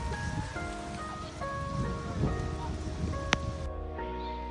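Steady patter of rain in Osaka, Japan, with a faint rumble, overlaid by tonal background sounds and a brief sharp click near the end.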